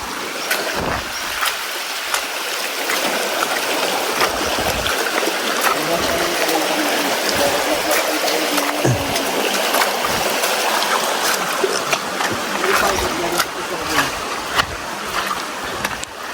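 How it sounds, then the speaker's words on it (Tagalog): A large river flows steadily with broad, continuous rushing water, close and even throughout, with faint voices and occasional knocks underneath. "Malaking ilog."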